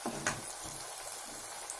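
Potato fingers frying in hot oil, a close, steady crackling sizzle with a few brief pops near the start, continuing evenly without any voices.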